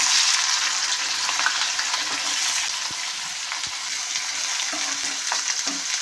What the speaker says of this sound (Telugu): కట్ చేసిన ఉల్లిపాయ వేద్దాం.